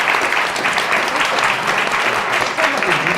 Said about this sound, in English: can we please give a big round of applause to these wonderful,